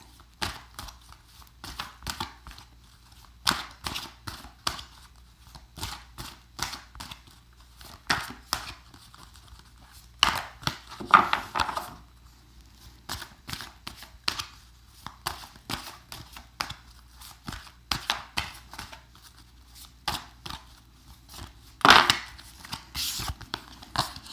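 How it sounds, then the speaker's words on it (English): Tarot cards being shuffled by hand, repeated crisp riffles and slaps in irregular bursts with quiet gaps between them, close and clear with no talking. "So I do shuffle and wait for 3 jumpers."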